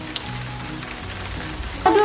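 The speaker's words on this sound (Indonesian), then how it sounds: "hujan pun turun." Steady rain pattering on a surface, soft and continuous, swelling slightly louder near the end.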